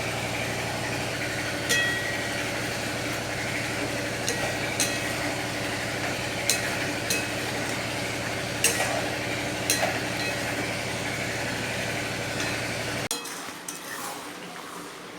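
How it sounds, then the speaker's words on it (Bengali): A lid lifted off a cooking pot of mutton and the meat stirred in a home kitchen, with scattered metallic clinks and scrapes over a steady hum, the background dropping away near the end. "ঢাকনাটা এবার উঠিয়ে একটু ভালো করে নেড়ে দেই"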